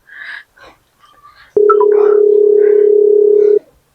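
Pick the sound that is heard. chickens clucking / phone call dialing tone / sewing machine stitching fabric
phone call dialing tone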